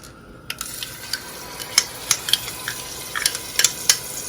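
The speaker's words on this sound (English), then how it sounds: "So in my pot here, I have some oil. I'm gonna add in my green seasoning" Green seasoning goes into hot oil in a pot for chicken and shrimp chow mein. A soft sizzle starts up, and scattered sharp pops and spatters crackle close by over a low, steady hiss.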